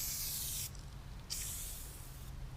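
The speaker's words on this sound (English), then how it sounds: "you want to shake up the can and all you're going to do is literally spray it on the exterior of the car" Aerosol can of Black Magic tire shine sprayed onto a Mustang's exterior, two close hissing bursts with a short pause between, steady and fairly loud.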